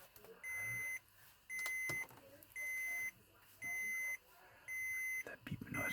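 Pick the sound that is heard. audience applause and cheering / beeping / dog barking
beeping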